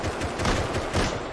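Rapid burst of gunfire in the survival game Rust, a dense fusillade of repeated shots close and loud across the whole moment, no talk.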